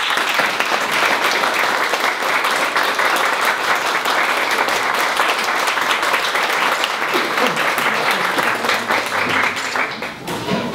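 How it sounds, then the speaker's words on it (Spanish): A delegation and local community at an official visit break into a sustained round of applause, dense crowd clapping holding steady and loud for about ten seconds with some voices mixed in near the end. "quería pedir a los amigos de la delegación una salva de palmas a la comunidad"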